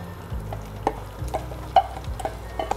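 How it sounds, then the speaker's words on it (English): Tomatoes tipped into a pan of onions and mushrooms frying with garlic and ginger paste: a low hiss under repeated utensil taps and scrapes while stirring, close up. "Now add your tomatoes."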